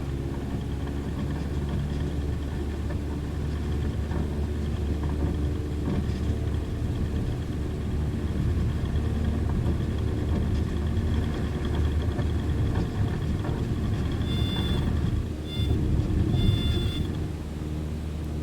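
Cessna 152 engine in Microsoft Flight Simulator during a soft-field takeoff roll, a steady droning mid-low engine note holding constant throughout, with a couple of brief high beeps near the end.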